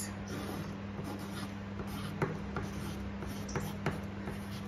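A pen or pencil writes on paper, giving a quiet, close, continuous scratching with a few light taps over a low steady background hum, and no one speaks.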